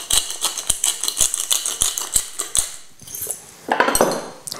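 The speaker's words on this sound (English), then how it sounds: "Just give that a quick mix up, break the egg up, and just get it all mixed together." An egg mixture with chopped parsley, salt and black pepper is whisked in a bowl with a utensil, giving a run of quick, sharp clinks and taps against the bowl, close and clear, then brief scraping swirls.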